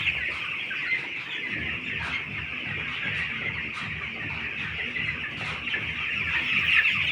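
A flock of chickens clucks steadily and continuously, many birds close by, with a dense low rumble of movement beneath.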